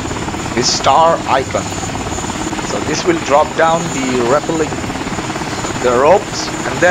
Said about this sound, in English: now the helicopter is hovering